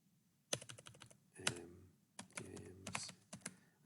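Someone types in a command on a computer keyboard in quick, close bursts of key clicks with short pauses between groups, quiet and alone with no talking.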